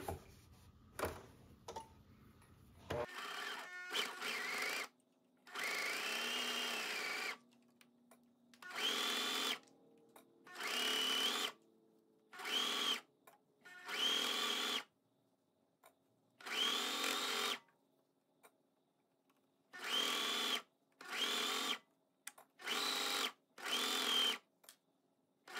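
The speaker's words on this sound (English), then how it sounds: "If you don't have enough of a tail to start with, go ahead and make one before you start serging." A serger sewing machine stitches knit cardigan fabric in repeated bursts of fast, whirring mechanical running, each a second or two long and separated by short pauses. The sound is close and steady, with no talking.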